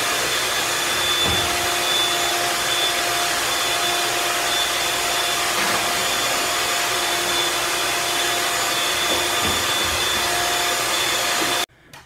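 An electric mixer whisks egg whites for lemon meringue, a steady, even motor whine running unbroken for several seconds before cutting off abruptly.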